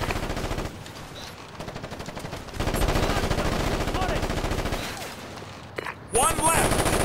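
Sustained automatic gunfire and scattered shots in the tactical shooter game Ghost Recon Advanced Warfighter 2, loud and continuous through the clip, with rattling bursts stepping up in intensity partway and a sharp crack with ricochet-like whines near the end.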